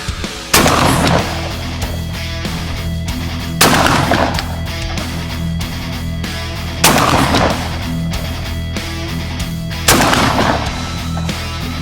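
Benelli M4 tactical 12 gauge shotgun firing Federal Premium TRUBALL rifled slugs, four loud, booming shots spaced roughly three seconds apart, each with a ringing tail over a steady background.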